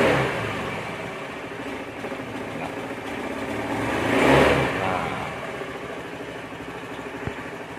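An automatic scooter with a weak or leaking fuel pump, propped on its center stand, runs without moving, holding a steady idle that swells into a short rev and settles back, close and loud.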